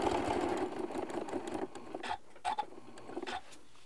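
A sewing machine runs briefly, stitching fabric in a steady mechanical whir that fades into a few scattered clicks and small handling noises, close and fairly quiet.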